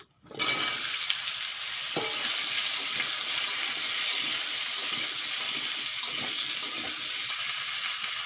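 Cut, washed cucumber dropped into hot oil tempered with dried red chilli for a Bengali sour cucumber dish, bursting into a loud, steady, close sizzle that continues without pause, with faint clinks beneath.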